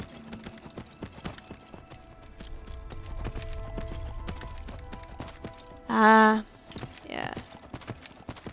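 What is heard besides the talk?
horse hooves clip-clopping in a video game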